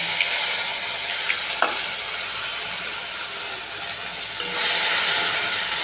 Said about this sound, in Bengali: এই মাছ ভাজার তেলের মধ্যে আমি কালো জিরে ফোড়ন দিলাম, দিয়ে এবার দিয়ে দেবো মশলা।